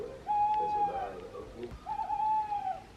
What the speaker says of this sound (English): Sounds like the owl is right outside.